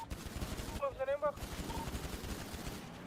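Rapid bursts of gunfire from a roleplay shooter game crackle throughout, dense and close, with shouted voice chat from players over the top.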